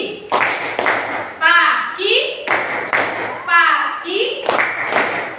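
A classroom rhythmic clapping game: loud, sharp group claps land in quick bursts, alternating with children's sung or chanted calls between them, forming a repeating pattern close to the listener.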